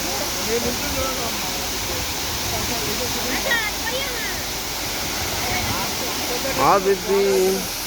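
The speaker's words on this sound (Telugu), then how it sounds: "ఇవన్నీ ఆర్టిఫిషియల్ వాటర్ ఫాల్స్ అనమాట" Steady rushing roar of an artificial waterfall at Koheda Gutta, with faint voices rising briefly over the noise near the end.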